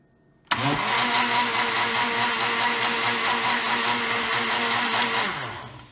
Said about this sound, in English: So I'm just going to give it one more blend